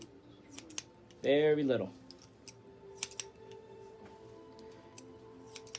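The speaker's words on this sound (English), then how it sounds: "I'm just going to do a light trim here." Scissors snip hair on top of a head during a light trim, giving a few faint, crisp clicks scattered across the moment, close by, with someone briefly talking over them.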